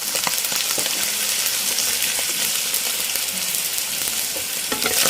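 Rice and shrimp paste fry in a hot pan, giving a steady loud sizzle broken by scraping, stirring clatters from a utensil.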